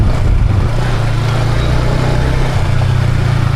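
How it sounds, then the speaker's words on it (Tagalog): A motorcycle engine with its stock exhaust runs steadily nearby, a low rumbling idle with a constant throb and no talking. "Ngayon ko lang ulit narinig ang ganitong tunog ng motor na to."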